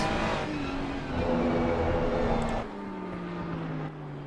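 Race cars in a PC racing game at Silverstone, with engine drones shifting in pitch as the cars pass and change gear. The sound is loud and continuous, with no talk.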